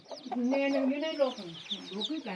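A hen with chicks clucks close by at a Thai village home, giving a run of tonal, warbling clucks and murmuring calls that rise and fall steadily, with no speech over them.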